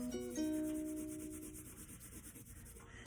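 A pencil rubs quickly back and forth across paper, drawing a run of fast strokes that make a soft, close, continuous scratching with no talking.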